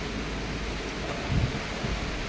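A steady wash of rain with gusting wind buffeting the microphone, a low rumble swelling briefly midway, no one speaking.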